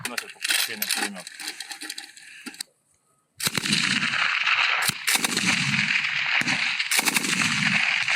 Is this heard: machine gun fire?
yes